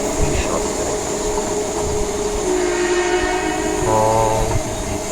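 Passing train rumbling steadily nearby with a sustained horn blast sounding in the second half, loud over constant rail noise.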